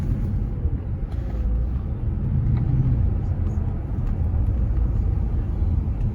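A Bentley Arnage T, a 450-horsepower car, drives slowly at a Rolls-Royce rally, its engine a low steady rumble heard from inside the cabin, with faint light clicks and no speech.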